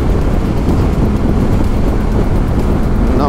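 Loud, constant wind roar buffeting the microphone while riding a motorcycle at speed, a dense rushing noise throughout with no pauses.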